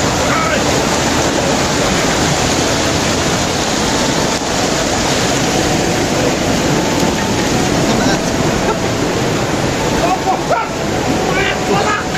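Loud, steady roar of a waterfall and rushing water waves at a newly found waterfall in Chitwan, Nepal, a broad continuous wash close by with a voice faintly under it.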